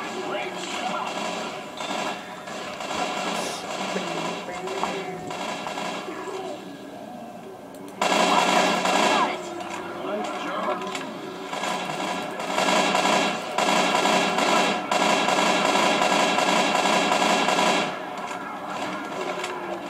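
Rapid gunfire in the zombie shooter Left 4 Dead 2, dense bursts that run almost without pause, loud and close, with a brief lull near the middle before firing resumes.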